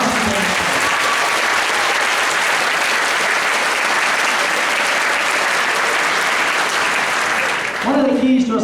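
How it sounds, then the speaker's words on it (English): A large crowd gives a long, loud, sustained round of applause for a high school marching band, dense clapping holding steady before tapering off into a voice at the very end. "How about a nice round of applause for our marching band?"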